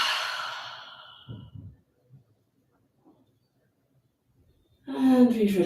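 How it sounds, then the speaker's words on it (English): A long, soft breath pushed out through the mouth during a shavasana relaxation exercise, trailing away over about a second, followed by quiet stillness and then a voice speaking. "Exhale through the mouth."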